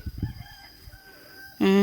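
A rooster crows once, loud and close, with a sustained call that starts abruptly after a stretch of quieter rustling and background noise on a rural Thai homestead.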